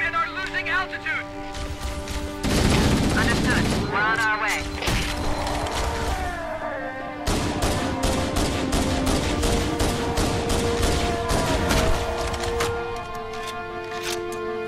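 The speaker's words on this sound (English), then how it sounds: "Repeat, we are under heavy fire and are losing altitude!" Heavy gunfire rattles in sustained rapid bursts aboard a dropship under attack in Halo: The Master Chief Collection, loud and close, with mechanical clatter and voices talking over it.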